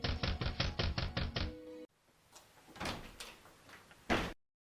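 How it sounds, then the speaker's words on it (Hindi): Knocks on a house door at a Christmas dance drama, arriving as a quick series of sharp, evenly spaced raps, then a pause before a few fainter, scattered thumps and a final louder knock. "यूसुफ और मरियम वहां से आगे निकलकर अगले दरवाजे पर खटखटाते हैं।"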